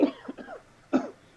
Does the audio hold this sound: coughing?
yes